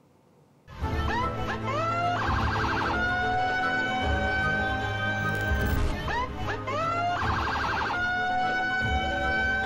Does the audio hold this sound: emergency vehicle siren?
yes